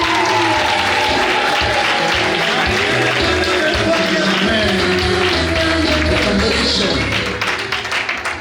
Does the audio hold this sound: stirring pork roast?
no